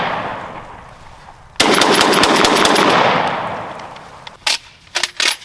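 A rapid string of gunshots fired at steel plates bursts out close and loud, blending into a sustained roar of fire, followed by a few separate sharp shots as it tails off.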